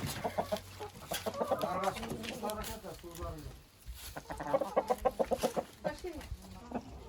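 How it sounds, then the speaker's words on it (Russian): Plump chickens cluck and cackle in a rapid, busy chorus close by in a village yard in Tatarstan, with people talking over them throughout. "Такие жирные куры."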